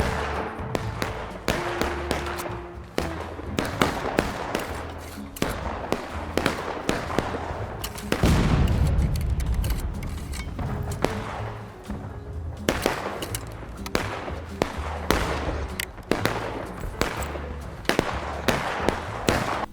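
Rapid gunfire bursts from a realistic shooter video game, loud sharp cracks in dense irregular volleys with a heavier explosion-like boom midway, no talking.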